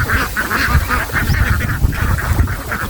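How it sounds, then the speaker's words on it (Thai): Egg-laying ducks quack steadily in a dense, continuous chorus while being fed on a rural farm, the overlapping calls close and loud with no talking. "ให้อาหารเป็ด"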